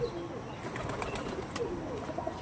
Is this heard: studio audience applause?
no